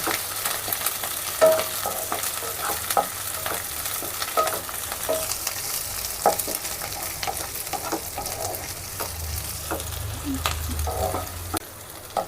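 Chopped green chillies fry in a pan for a spicy baby corn and mushroom masala, giving a steady, moderately loud crackling sizzle with occasional spatters, and no talking.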